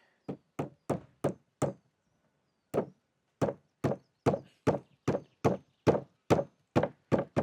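A hammer gently taps a wooden plug into a slatted wooden bench in steady, sharp knocks, a quick run of five, a pause, then a longer even series of taps, close by.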